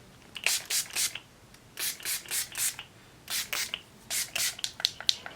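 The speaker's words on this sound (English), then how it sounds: "This spray, this glitter spray, it does leave like microfine glitters all over your face." Bursts of glitter setting spray misted onto a face in short repeated pumps, a soft hissing spritz pattern in quick clusters, close and quiet with no talking.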